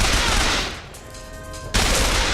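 Loud bursts of gunfire in Bioshock Infinite scoring a headshot, close shots that die down briefly and then start again abruptly.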